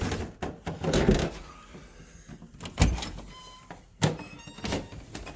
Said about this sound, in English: And Mike is always trying to get past me when I open the door